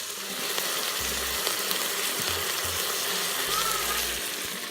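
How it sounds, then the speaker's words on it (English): Beef pieces sizzle steadily as they fry in a hot pan, a constant crackling hiss with occasional low thumps from the pan or utensils. "when you get it sizzling pretty good in there"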